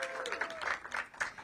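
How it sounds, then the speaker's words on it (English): An audience at a mayoral small business event applauds, a brief burst of dense clapping with a faint voice underneath. "So give them a big round of applause."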